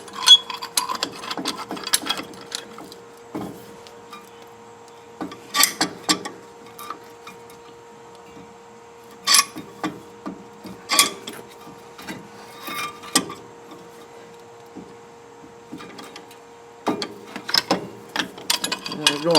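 Brake caliper pistons being forced back on the front brakes of a 2000 Ford F350 4x4, heard as intermittent mechanical clicks, ratcheting and metallic clunks in bursts, fairly close, with quiet stretches between efforts.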